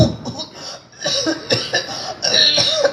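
A few short, rough coughs in a row, fairly close, with some background noise and faint voices around them.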